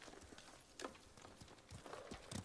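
Horse hooves in the Ghost of Tsushima video game, a few soft clip-clop footfalls in a steady walking rhythm over a busy game background, fairly faint and close.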